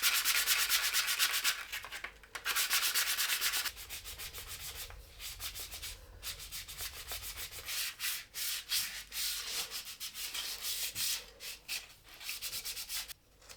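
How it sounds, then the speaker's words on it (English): Plywood is hand sanded with 60-grit paper for a lamp, giving loud, close, rasping strokes in an uneven back-and-forth rhythm with short pauses and no talking. "So with the hand sanding, I went back down to 60 grit just to get rid of those marks."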